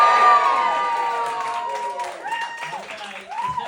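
A comedy club crowd cheers and claps for the headliner, with whoops and shouts rising over a wash of applause that holds fairly loud and steady, close and lively.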